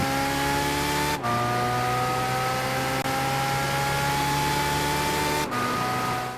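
Engine note of a car in Gran Turismo 5, a steady loud drone with sustained harmonics that climbs gradually, broken by two brief dips at gear shifts, with no other sounds.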